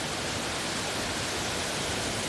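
A forest waterfall and stream rush steadily, a dense, even hiss of falling and flowing water heard up close with no other sounds.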